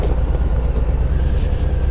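A train rumbles past close by, a loud, steady low roar with faint rhythmic clatter from the wheels.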